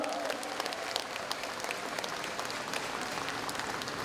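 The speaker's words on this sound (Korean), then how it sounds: "위대한 지도자에게 큰 박수를" Audience applause fills a commemorative gathering in Gumi, South Korea, a dense, steady roar of many hands clapping that holds level throughout without a break.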